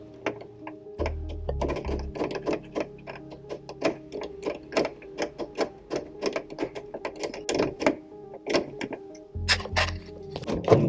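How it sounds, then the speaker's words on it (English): Screws being loosened on a VW Golf mk2 sunroof panel make a steady run of rapid mechanical clicks and ratcheting ticks, close and moderately loud, with a low hum under parts of it. "So you loosen off these screws here,"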